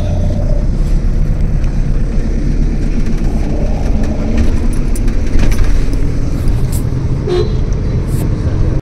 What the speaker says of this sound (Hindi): और गाड़ी चल दी